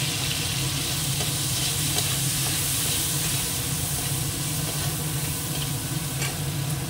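Prawns fry in a pan with turmeric powder and a little lemon, giving a close, constant sizzle and hiss throughout with faint stirring scrapes and no talking.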